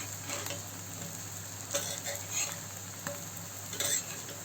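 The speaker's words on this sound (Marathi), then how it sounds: "आपल्याला दोन्ही साईडने छान भाजून घ्यायचे।" Masala-coated brinjal slices fry in a pan with a soft continuous sizzle, broken by a few louder spatters and light utensil touches, no talking.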